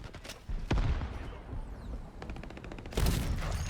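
Sniper rifle shots in the video game Shatterline, a few sharp cracks spaced apart with reload clatter between, moderately loud, no voices.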